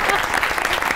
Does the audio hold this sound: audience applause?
yes